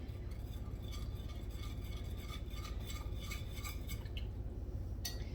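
Hot sauce is stirred into a sauce in a pan, giving soft, quiet utensil scrapes and light clinks at a steady pace over a low background hum.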